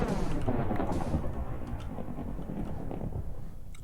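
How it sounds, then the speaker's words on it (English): A deep rumble of thunder from a Minecraft lightning strike rolls on for several seconds, loud at first and slowly fading, with a faint rain-like hiss beneath it. "That was a very weird sounding lightning strike"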